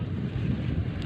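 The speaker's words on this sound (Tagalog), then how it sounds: "Nandito galing yung hangin eh." Steady wind rushes and buffets a microphone, a low continuous rumble with no pauses and no voices.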